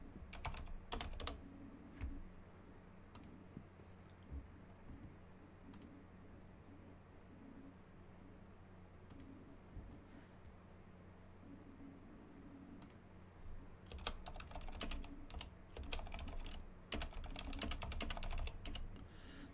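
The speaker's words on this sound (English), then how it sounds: "I can really hear myself typing" Typing on a computer keyboard runs throughout, close, steady clicking with brief pauses that picks up into a faster, louder burst near the end, over faint low background hum.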